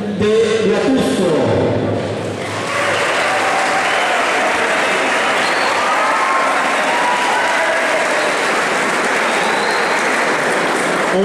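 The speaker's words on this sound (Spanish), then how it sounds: "Recibamos con un caluroso aplauso a la representación de Huatusco." A crowd at the opening ceremony of a school sports meet applauds the Huatusco team, a sustained, loud wash of clapping that swells after an announcer's voice at the start and holds steady.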